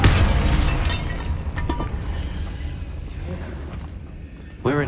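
A Confringo fire spell blasting a barricaded archway in the Hogwarts Legacy video game: a loud booming explosion that rolls on and slowly fades over several seconds, followed by a short sharp burst near the end.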